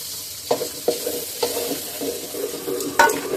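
Ground spices, onion-garlic-ginger paste and cashew paste frying in a pan, with a soft continuous sizzle broken by several sharp spatula scrapes and clinks as the mixture is stirred, close by.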